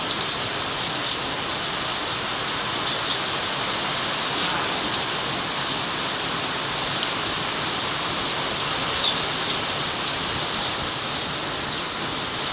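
Steady, dense rainfall hisses continuously, an even wash of drops with no pauses, fairly close and constant throughout.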